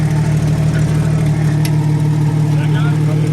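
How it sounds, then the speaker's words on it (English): A Jeep XJ's engine runs with a steady, loud, even idle rumble close by, under a man's speech. "Not for nothing, but the motor runs good."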